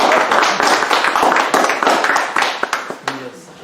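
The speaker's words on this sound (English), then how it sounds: "Can we clap?" Audience clapping at a church community self-defense and safety seminar, a brief burst of applause from a seated group that thins toward the end as voices start to break through.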